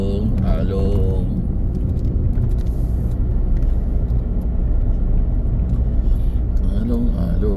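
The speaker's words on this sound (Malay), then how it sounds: "Lori balak banyak besar, tak boleh lintas." Big timber log trucks rumble past on the road, a loud continuous low engine roar with a brief air-brake hiss, while a voice talks over the traffic.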